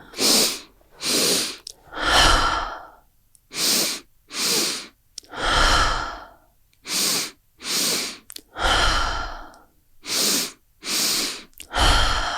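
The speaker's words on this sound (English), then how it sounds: "One last round of 15 to maybe 20 of these circular breaths." Fast circular breathing exercise with deep connected breaths, a steady series of about fourteen loud, close inhales and exhales in a rhythmic pattern, each breath a full airy rush.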